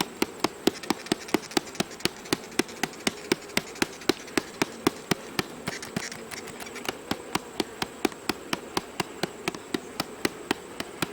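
Honey bees around two backyard hives, a faint steady buzz under a regular series of sharp clicking taps repeating about every quarter second throughout, no talking.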